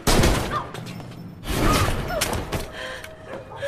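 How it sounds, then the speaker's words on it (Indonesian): A film scene in which a henchman suddenly shoots a woman has several sharp, booming gunshot bursts spread over a few seconds, with rumbling echo and scuffling noise between them. "Anna tiba-tiba saja ditembak oleh satu orang anak buah Duckworth"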